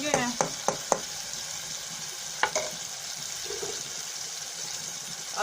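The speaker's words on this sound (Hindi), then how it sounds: "अब मैंने टमाटरों को भून लिया है।" Tomatoes frying in a pan, a steady close sizzle with a few sharp clinks of a spoon against the pan at the start and again midway; no talking.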